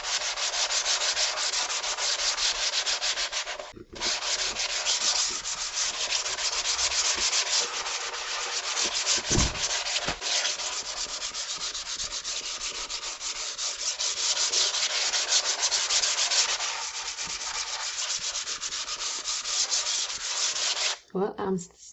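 A scrubbing-dot sponge with Bar Keepers Friend scours a kitchen sink in continuous close, gritty rubbing strokes that run almost without pause, a couple of brief breaks in the scraping rhythm.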